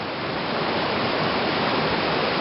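A river rushes through a canyon among huge boulders, a constant, full roar of churning water that stays even and close from start to finish, with no talk.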